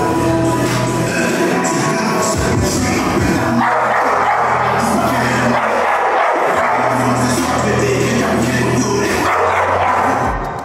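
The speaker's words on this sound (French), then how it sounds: "Je suis en train de tourner avec des chiens, la vie j'ai peur." Several dogs bark repeatedly at a busy outdoor shoot, loud and close, over a dense wash of crowd noise and music.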